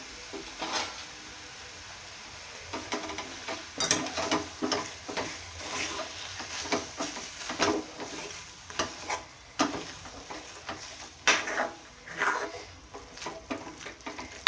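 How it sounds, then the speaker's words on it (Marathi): Mashed potato filling for aloo paratha being stirred and sautéed in a pan, with steady scraping strokes over a soft continuous sizzle, close and moderately loud, no talking. "आता तो छान मिक्स करून घ्यायचा आहे"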